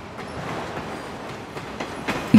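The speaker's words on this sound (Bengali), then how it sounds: "দেখা গেল ট্রেন বাঁক নিচ্ছে" A train rolls along the rails near the Teesta rail bridge, a steady rumble with soft rhythmic wheel clicks and occasional brighter metallic accents, close and continuous without voices.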